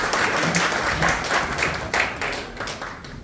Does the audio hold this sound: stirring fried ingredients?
no